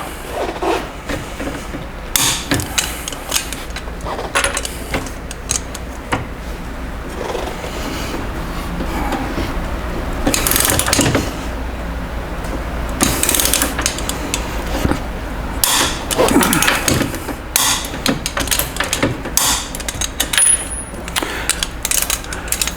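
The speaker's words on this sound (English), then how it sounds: "We're going to go ahead and do the final torque on all of these now." Torque wrench doing the final tightening to 46 foot-pounds on steering stabilizer bolts, heard as scattered sharp metallic clicks and clanks against a steady mechanical background hum.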